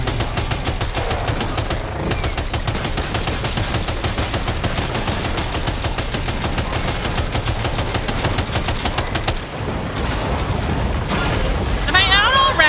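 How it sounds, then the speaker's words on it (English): A machine gun in the video game Death Stranding 2 fires in a long unbroken burst of rapid, loud, evenly spaced shots that runs nearly the whole time, with a short lull before resuming, game noise layered underneath. "Let's switch to... Not the shotgun. The... Machine gun."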